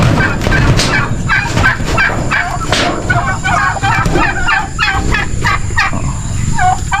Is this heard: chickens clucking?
yes